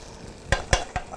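Onions browned in a frying pan with drippings sizzle softly while a utensil stirs them, giving three distinct scraping thumps over a steady low hiss, close and moderately loud.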